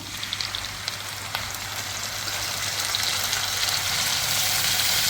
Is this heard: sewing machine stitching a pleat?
no